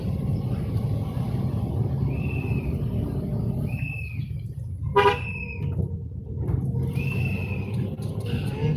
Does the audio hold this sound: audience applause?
no